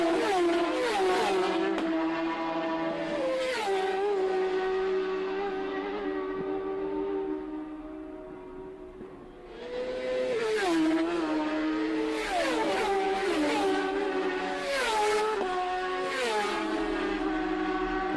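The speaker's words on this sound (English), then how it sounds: "the sound of the motorcycles, bro, and them speeding by like that" Racing motorcycles at the Isle of Man TT scream past one after another at top speed, engines rising and falling in pitch, with a brief lull before another loud group roars through.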